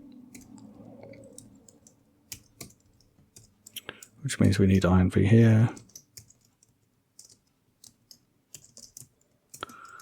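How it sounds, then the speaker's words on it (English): Rapid clicking of a computer keyboard during Rust programming, a scattered run of sharp keystrokes interrupted by a short burst of speech, then more isolated taps. "A lot of typing to do this generic stuff."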